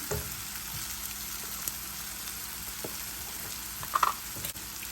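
Curry leaves dropped into hot oil for Rajasthani palak besan sukha, a quiet even frying crackle with a few sharper pops and a spoon tap near the end, close by with no talking.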